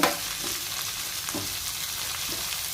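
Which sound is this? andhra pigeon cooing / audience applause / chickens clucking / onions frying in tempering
onions frying in tempering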